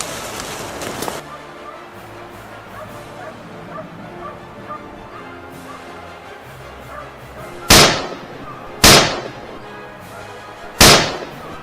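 Gunshots during a wild boar hunt by farmers: three sharp, loud cracks spaced about one to two seconds apart, after a stretch of dog barks, yips and whimpers.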